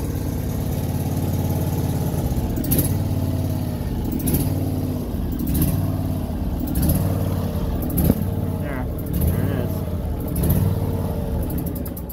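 Cub Cadet 1641 lawn tractor, with a hydraulic leak, fired up on jumper cables: the small engine runs with a steady, close mechanical drone, punctuated by several sharp knocks or clunks, while a voice talks intermittently.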